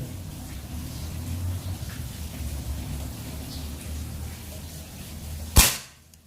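A single sharp mini bullpup air rifle shot, firing a cannon dome pellet at about 20 meters, cracks out near the end, loud and close, after a stretch of low steady background hum, then quickly fades.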